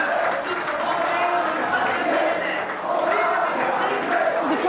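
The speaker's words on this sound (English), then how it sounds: "You can hear the supporters chanting behind me." Marine Le Pen supporters chanting at a victory-night rally after her qualification for the presidential second round, a dense crowd roar with rhythmic swells, heard behind a reporter speaking close up.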